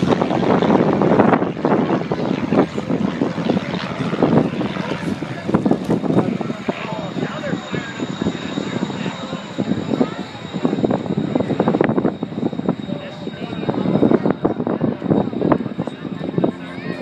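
A Shockwave jet truck roars past at high speed during the Wings over Northern Michigan air show, giving a loud, continuous broadband jet roar that surges and swells over about seventeen seconds while an announcer talks over it.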